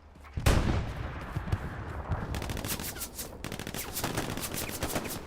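Gunfire in a multiplayer military shooter game, a loud close burst followed by a run of rapid repeated shots with further scattered firing, no talking over it.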